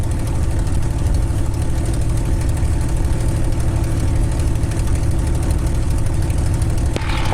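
The almost brand-new Merlin engine of a TF-51 (P-51) Mustang runs with a loud, steady, throbbing drone, heard close and unbroken, ending with a brief click.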